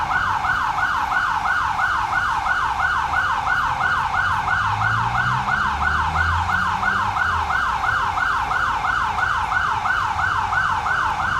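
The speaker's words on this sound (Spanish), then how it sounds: "Las sirenas sonaron otra vez." Sirens wail in a continuous rising-and-falling cycle at a remembrance gathering for the anniversary of the Arenal volcano eruption, loud and steady with faint low traffic rumble beneath.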